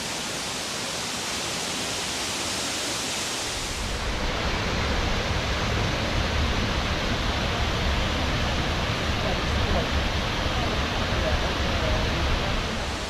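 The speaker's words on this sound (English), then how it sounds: "this is an amazing waterfall here" Harrison Wright Falls at Ricketts Glen State Park roars as a broad, continuous rush of falling water, loud and close, growing heavier and fuller partway through as the listener nears the cascade.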